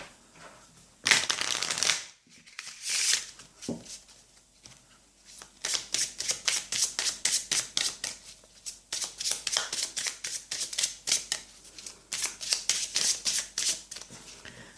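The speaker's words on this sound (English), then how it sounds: "Just having a very quick shuffle." A tarot card deck is shuffled by hand in quick riffling bursts, a brief flurry early on, then rapid repeated flicks of cards running steadily through the rest, close and fairly quiet with no talking.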